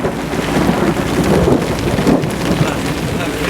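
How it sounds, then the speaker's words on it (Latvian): Steady heavy rain pours down during a thunderstorm at the Latvian seaside in Pāvilosta, a dense, continuous wash of sound with gusting wind and no clear separate thunderclap. "un tev bija savilkās mākoņi, un sākās konkrēts negaiss"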